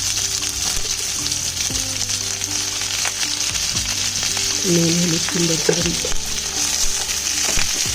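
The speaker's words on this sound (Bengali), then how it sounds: "এই পটলটাকে দিয়ে নুন হলুদ দিয়ে খুব সুন্দর করে ভেজে নেব" Pointed gourd frying in mustard oil with salt and turmeric, giving a steady close sizzle throughout while a person talks over it.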